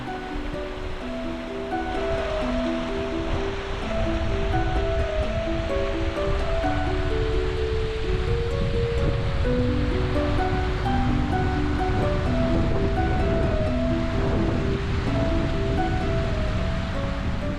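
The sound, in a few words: clear river water flowing over a low weir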